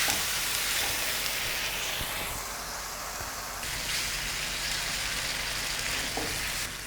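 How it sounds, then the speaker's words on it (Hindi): Chicken liver frying in its marinade sauce in a karahi over a medium flame gives a steady, dense sizzle. The hiss runs continuously throughout and is fairly loud and close, with light stirring and no talking. "कलेजी डालने के बाद हमने फ्लेम मीडियम कर ली है और अब हम इसको भून लेंगे"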